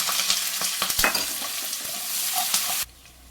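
Medium onion, two green chillies and curry leaves frying in a pan for amaranth-tomato curry, a dense loud sizzle with quick spatula scrapes and taps, then cut off abruptly near the end.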